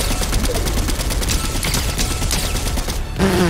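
Gold MK-7 rifle in Fortnite Season 2 firing continuous rapid automatic bursts, loud and dense throughout, ending with a brief tonal in-game sound.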